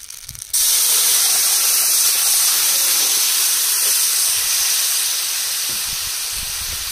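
Vegetable curry with elephant foot yam poured into hot fish-frying oil tempered with cumin and dry chillies, cooking outdoors in a field: a sudden loud, steady sizzling hiss erupts after a brief quiet start and fades slightly.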